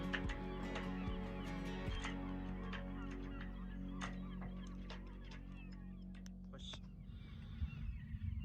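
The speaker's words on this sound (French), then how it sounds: "Ses falaises abruptes accueillent des milliers de petits pingouins, guillemots marmettes et guillemots à miroir." Seabird colony of razorbills, common murres and black guillemots on steep cliffs, a constant chorus of many overlapping calls and honking cries heard from a sailing boat, with a steady low rumble beneath.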